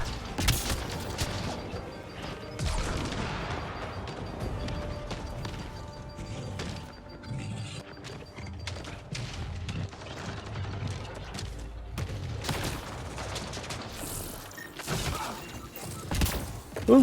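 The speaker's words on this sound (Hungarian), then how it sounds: "Egy gyors lövés." Gunfire in the sci-fi video game Mass Effect: Andromeda, a dense mix of sharp bursts, thuds and mechanical clatter with game music underneath.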